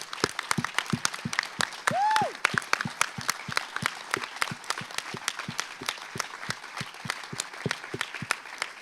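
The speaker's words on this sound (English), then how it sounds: "And let's applaud them." Speakers at a lightning talks event are applauded with steady, sustained clapping that keeps going throughout, with a brief tonal whistle-like sound near the start.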